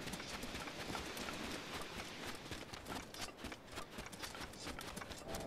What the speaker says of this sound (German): Ich sehe doch schon unser Pferdchen.